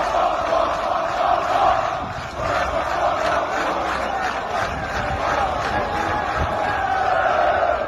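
Organized football supporters' section in the north stand, chanting together. The sound is a loud, sustained massed chant with rhythmic pulses and a distant stadium echo that carries throughout.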